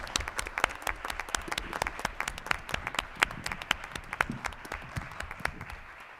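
A smaller audience at a school board meeting claps for a fourth-place team, with distinct individual claps in a moderately quiet, uneven patter throughout.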